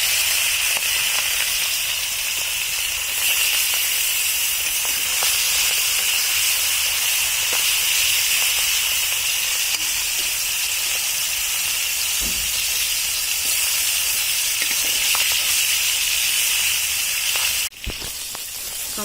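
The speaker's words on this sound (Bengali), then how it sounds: "তো মাছগুলো আমরা কখন কড়াইতে ছেড়ে দিচ্ছি" Fish fries in hot oil in a wok, giving a constant loud hiss that runs unbroken throughout, with a brief knock near the end.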